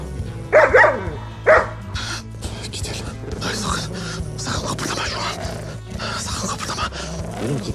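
A dog attacking two men in a Turkish TV drama scene, with two sharp, loud bark bursts early on followed by continuous snarling commotion and agitated voices.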